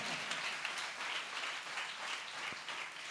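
A church congregation at a New Year service claps steadily for several seconds, a dense, even wash of applause filling the room without pause.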